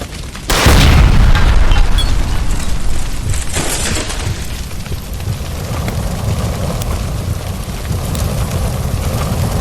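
A gas line explodes in the video game LA Noire, one sudden loud boom that rolls into a long rumbling roar and fades slowly, with no voices.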